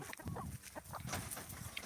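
Chickens clucking close by on a farm where ducks and chickens are fed ground water hyacinth, with short overlapping calls and rustling through a steady noisy background.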